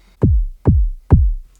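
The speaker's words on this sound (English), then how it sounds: "The kick sound is a basic triangle wave from the dot for oscillator" Three deep kick drum hits synthesized from a basic triangle wave on a Eurorack modular synth, each a punchy low thump with a quick downward pitch drop, evenly spaced and played alone.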